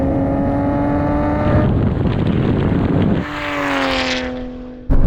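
Nissan GT-R R33 and R34 cars drag racing, with loud high-revving engines whining up through the gears, a sharp pitch drop at each shift, then a second car roaring past close by before fading.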